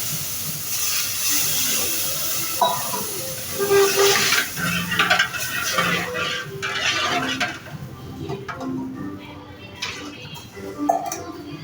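Water hits hot pan-roasted semolina with ghee and oil, a hiss and sizzle mixed with clattering of a pot and spoon stirring, uneven bursts of noise over several seconds.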